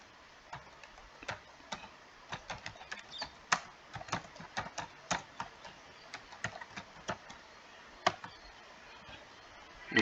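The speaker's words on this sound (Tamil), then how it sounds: "நான் எக்ஸாம்பிள் டைப் பண்ணுறேன்." Keys click on a computer keyboard while data is entered into billing software, a quiet, irregular run of sharp taps with short pauses, close and without talk.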